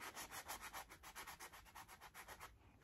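Sandpaper rubbing over the wooden detail of a mantle clock to distress its finish, a quick, rhythmic back-and-forth scrape of about a dozen close strokes, easing off at the end.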